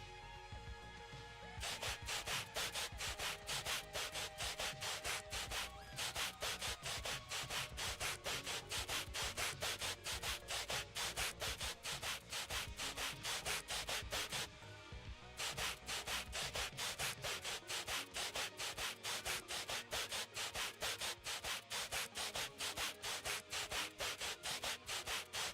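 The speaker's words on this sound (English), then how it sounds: "scrubbing away fire debris in a fire station" Scrubbing fire debris inside a fire station in the video game House Flipper 2 makes a loud, fast, repetitive rasping scrub in an even rhythm that continues almost without pause, with a brief break partway through.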